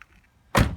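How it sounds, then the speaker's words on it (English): A Mercedes CLK500 car door swings shut with a single solid thunk after a brief quiet moment, close by. "Let's close the door."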